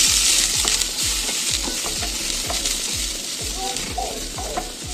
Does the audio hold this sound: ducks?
no